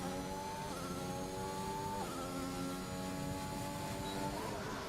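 A race car in a Need for Speed game screams hard on the gas around the Singapore track, its engine note climbing through gears in repeated rising sweeps with sharp shift drops, loud and continuous.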